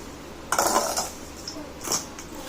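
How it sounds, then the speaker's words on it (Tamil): Spoon stirring poppy seed stuffing for somas in a metal vessel: two bursts of scraping and clinking, the first louder and longer, the second briefer, close by with no speech. "அதனால் நம்ம ஸ்பூனாலேயே நம்ம கிளறி கொடுத்துடலாம் ஸ்டஃப்பை"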